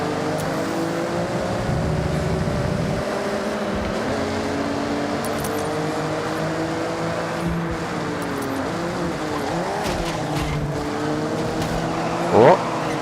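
A Nissan R32 GT-R race car in an online racing video game, engine droning steadily with shifting pitch as the tires struggle for grip, a brief sharp squeal near the end, with a voice talking faintly underneath.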